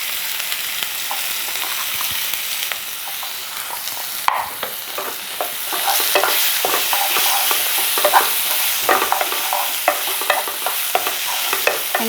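Finely chopped onion sizzles in hot oil with asafoetida, stirred steadily in a pan for vegetable bonda filling; continuous frying hiss with frequent scraping spatula strokes, close and fairly loud, growing busier midway.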